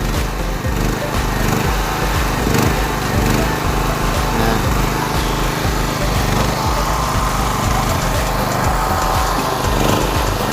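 A used 6.5 kW generator engine runs continuously, giving a loud, steady, close-up mechanical drone with a fast, even rumble and no clear changes in speed for the whole stretch.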